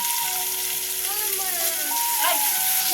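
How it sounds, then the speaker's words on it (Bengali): Spices with tomato, turmeric and salt fry in a pan for a Bengali rohu fish mustard curry, giving a steady close sizzle with faint stirring scrapes beneath background music. "মশলাটা ভাজা ভাজা হয়ে গেল"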